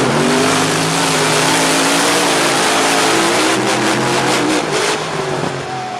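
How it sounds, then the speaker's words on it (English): A monster truck engine roars and revs continuously during a season-finale race, loud and close, with a dense steady roar that wavers slightly near the end. "As both drivers rounded the final turn, Mark Hall was able to put the ram power to the ground and cruise to a win in the season finale."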